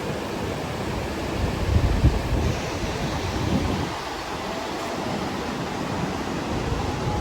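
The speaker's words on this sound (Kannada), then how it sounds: "ನೋಡಿ ಎಷ್ಟು ಸಗಲಾಗಿದೆ ಅಂದರೆ ಈ ಜಲಪಾತ" Chunchanakatte waterfall roars as a broad, steady wash of rushing water, dense and continuous at a moderate distance, with no voices over it.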